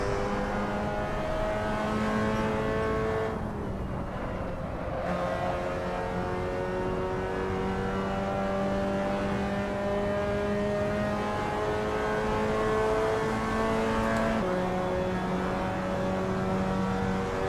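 Mazda MX-5 race cars in Assetto Corsa at Brands Hatch, with a steady, sustained engine drone whose pitch rises and falls through gear changes, near and continuous throughout.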